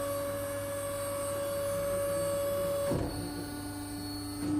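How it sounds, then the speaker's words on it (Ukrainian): Hydraulic system of a Bomar Proline 420.350 H semi-automatic band saw switching on and raising the saw frame: a steady pump hum with a strong tonal drone, then a shift in pitch and a brief clunk around three seconds, with a later change near the end. "Вмикаємо гідравліку. Під'ємо вверх."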